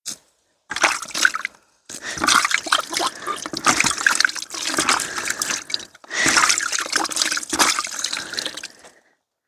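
Coffee cups washed by hand outdoors with carried water, close trickling and splashing in several bursts separated by short pauses, with light clinks of the cups.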